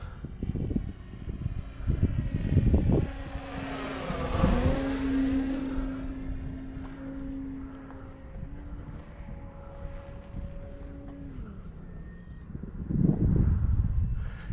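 A large radio-controlled model airplane, a Carbon Z T-28 Trojan, drones steadily overhead on its small propeller engine, pitch rising and falling as it passes and circles, with rougher bursts at the start and end.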